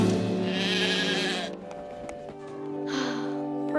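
A cartoon sheep gives a long wavering bleat, then a shorter second bleat, loud and close over a faint music bed.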